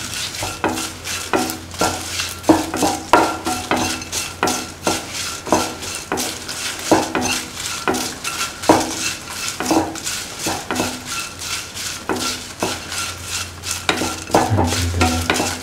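Chilies crisping in oil in a pan for a vegan potato pickle, stirred with a utensil in steady repeated scrapes and clinks over a continuous close sizzle, with no talking.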